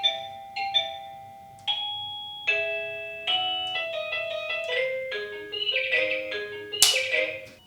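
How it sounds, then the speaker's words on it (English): An Accfly wireless video doorbell's plug-in chime plays a bright electronic melody, a run of clear bell-like tones that step through a tune for several seconds, moderately loud and close, with no one speaking. "the ringer is now ringing, and also the doorbell is ringing as well"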